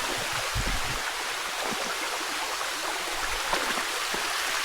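Stream water flows along a trail at Mariwariw Lagoon, a continuous close rushing and gurgling wash that stays steady and alone throughout.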